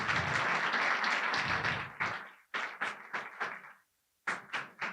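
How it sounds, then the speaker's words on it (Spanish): An audience applauds after a talk at a winery event, with a full round of clapping that breaks into scattered, uneven claps with a brief silent gap near the end. "Un aplauso para Pepe."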